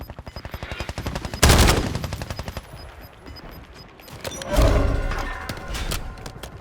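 Gunfire in the video game Warzone: rapid automatic bursts with rhythmic shots and two heavier blasts, loud and continuous across the whole stretch.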